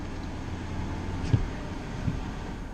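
Air conditioning blows steadily inside a parked car on a very hot day, a constant low broadband rush filling the cabin, with a couple of faint soft knocks partway through and no speech.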